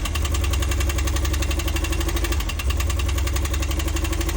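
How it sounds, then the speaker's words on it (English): A van engine idling roughly up close, a steady rapid knocking and ticking beat over a low rumble, continuous and loud with no talk. "I'm not really too sure what is wrong with my van. It sounds like ta ta ta ta ta ta ta ta ta."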